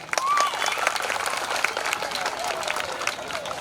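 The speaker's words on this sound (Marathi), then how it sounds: "सर्वांसाठी आपण एकदा टाळ्या वाजूया" An audience at a school cultural programme during a village festival applauds, with dense clapping that stays loud and steady throughout, along with a few voices and a whistle.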